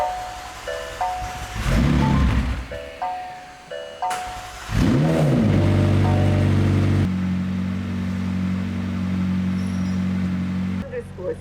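After a few electronic chimes, a McLaren 720S fitted with a new exhaust cranks and fires with a loud burst, then drops into a steady, deep idle close by.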